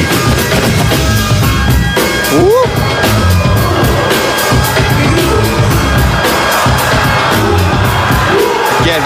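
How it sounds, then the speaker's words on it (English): A packed crowd at the Red Bull BC One 2022 World Finals breaking battle in New York City roars with loud, sustained cheering, whoops and shouts that surge and rise. Excited voices carry through the noise. "The crowd goes crazy!"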